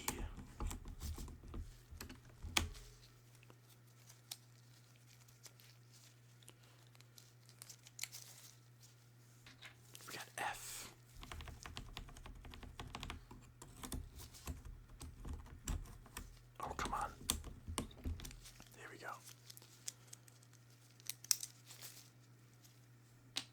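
Keys are pried off a computer keyboard during cleaning, giving quiet plastic clicks, pops and scratchy rattles scattered irregularly over a low steady hum, with soft handling noises between them.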